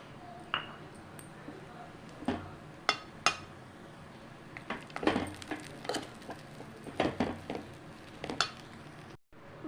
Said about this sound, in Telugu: ఇలా మొత్తం వేసుకొని కలుపుతూ ఉన్నారు